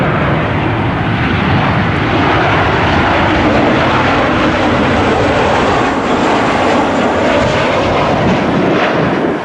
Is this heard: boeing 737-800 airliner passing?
yes